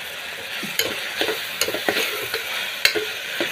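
Ginger paste stirred into a curry frying in a pan, giving a steady close sizzle broken by scattered scraping stirs, with no talking.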